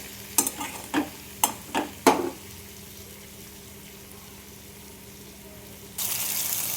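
A spatula scrapes and taps about six times through spice paste frying in oil in a pan. A quiet, low sizzle follows, then a louder steady hiss comes in at the end. No one speaks.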